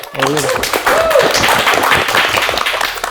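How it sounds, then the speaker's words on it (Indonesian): Applause at a talk-show style recording on customer experience, a burst of clapping from a small audience that runs throughout, with a voice speaking over the start. "Kita kasih tepuk tangan untuk customer experience."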